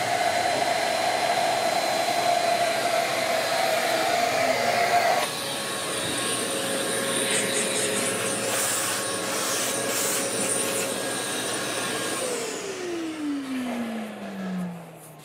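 A router spindle whines steadily while cutting foam, shifting pitch midway and then spinning down with a falling tone at the end.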